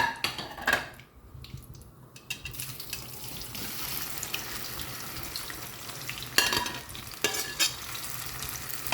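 Okra (lady's finger) frying in hot oil over a medium flame in a home kitchen, a steady close sizzle with stirring and utensil clinks against the pan, and brief louder scrapes near the end.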